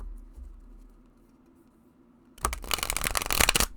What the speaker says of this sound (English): shuffling might be a little difficult